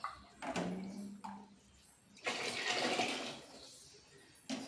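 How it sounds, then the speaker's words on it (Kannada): Hot water poured from a jug into a pot of rice for tomato bath with field beans, heard as a few separate splashing pours with pauses between them, near and fairly quiet. "ಆಗಲೇ ಕಾಯಿಸಿಟ್ಕೊಂಡಿರ್ತಕ್ಕಂಥ ನೀರನ್ನ ಈ ಜಗ್ಗಲ್ಲಿ 3 ಜಗ್ ನೀರು ಹಾಕೋಣ."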